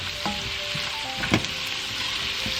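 Garlic and vegetables sizzle steadily in a pot, a continuous close frying hiss with a few brief stirring clatters and no talking.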